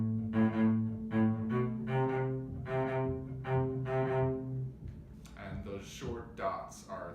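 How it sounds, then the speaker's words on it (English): Cello in a lesson on a Hamilton piece, playing quick long-short bow strokes that lift off the string, a steady string of bowed notes with short detached ones, near and clear, ending in a brief busier, noisier passage. "I have a long stroke in the string and a short one that leaves the string."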